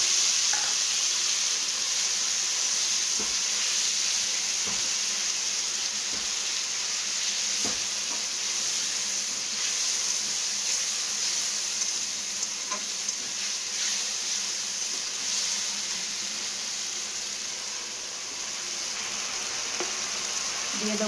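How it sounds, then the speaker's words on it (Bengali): Potatoes fried red-brown in a pan sizzle steadily as a paste of ginger, cumin, coriander powder and tomato is added, a continuous close crackle with occasional stirring clinks and no talk. "আলুটা আমার লাল লাল করে ভাজা হয়ে গেছে, এর মধ্যে দিয়ে দেবো মশলাটা"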